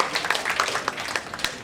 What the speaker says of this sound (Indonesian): coba ibu-ibu kita kasih tepuk tangan buat bapak-bapak.